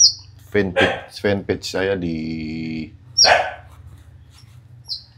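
Konin songbird chirps in short bright bursts near the start and end, mostly overlapped by someone talking, with a dog bark also present.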